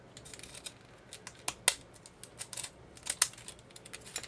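Scissors snipping through a recycled paper envelope, a series of crisp, close cuts in an irregular rhythm with two sharper snips standing out, no talking.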